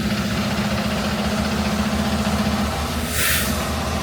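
Several tractors at a dealership idle steadily after starting, a continuous low diesel rumble with a faint hum, close and fairly loud, with a brief brighter burst of noise near the end.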